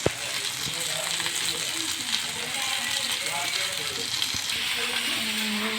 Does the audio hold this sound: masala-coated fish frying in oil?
yes